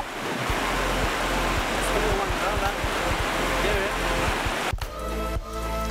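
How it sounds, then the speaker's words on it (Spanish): Huancabamba River flowing outdoors, a continuous loud rushing wash of water close by, with rhythmic low thumps underneath and voices and brief clatter near the end. "acompañado de la naturaleza, con los sonidos de los pájaros, el sonido del río, el sonido del ambiente"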